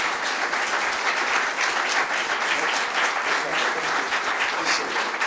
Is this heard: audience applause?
yes